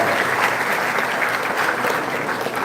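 A crowd claps for performers at a live cultural event, a dense, even wash of applause from many hands, loud and close, holding steady without voices.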